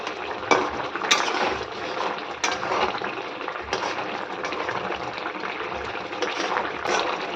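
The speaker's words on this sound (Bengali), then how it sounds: "এখানে কটা বাসন মেজেছি এ কটা ধুয়ে নেব" Dishes are rinsed under a running tap in a home kitchen, with a steady splash of water and scattered clinks of utensils and plates, close by and without speech.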